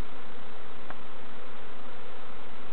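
A steady, close buzzing of bees at an allotment community garden hums without a break, like bees swarming nearby, with one brief click partway through.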